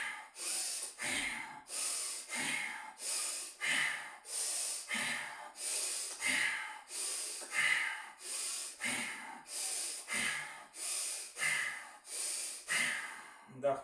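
A bhastrika bellows breathing exercise during a breathing-practice session: about fourteen forceful, rapid breaths in a steady rhythm, each a loud, hissing, snort-like rush of air, close and alone with no talking.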